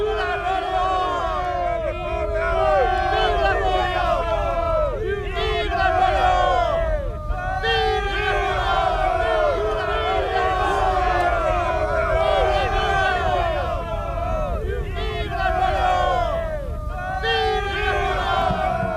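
A huge crowd of soldiers around bivouac fires at Austerlitz cheering in rhythmic, repeated rising chants, loud and continuous massed voices with a low rumble beneath.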